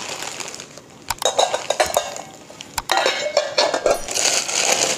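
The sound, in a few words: set of steel bowls clinking while handled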